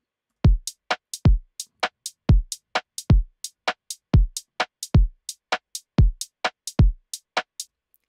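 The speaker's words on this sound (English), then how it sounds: "clap sound with a rim shot, one of our rim shots from one of our packs." A drum pattern built from Ableton's stock 909 kit, with a rim shot replacing the clap, loops in a steady, sparse garage-style rhythm: punchy kicks with crisp hats and rim clicks, dry and close.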